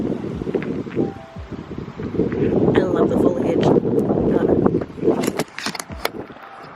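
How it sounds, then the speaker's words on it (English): Wind gusts across a microphone outdoors in a foliage-lined area near Grand Teton, a steady rushing roar under a woman's close speech, with occasional rustling. "But it's windy."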